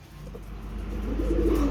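Pigeons coo in a loft where a weakened bird is being treated, low soft calls rising slightly in loudness over a steady low background hum.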